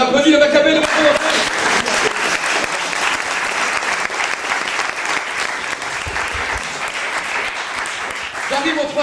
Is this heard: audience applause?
yes